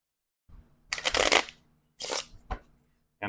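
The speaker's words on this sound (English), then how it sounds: "Give this a shuffle" Brisk papery bursts of a card deck being shuffled, a long riffle followed by shorter flutters and a quick snap, close and fairly quiet.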